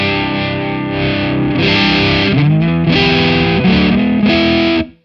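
Electric guitar played through a Kiesel HyperRig with overdrive engaged, loud distorted sustained chords shifting pitch over several seconds before cutting off abruptly.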